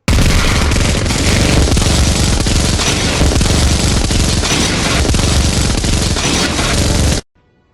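Sustained, loud gunfire and explosions from a war film battle scene, with rapid automatic fire and booms filling about seven seconds before cutting abruptly to silence.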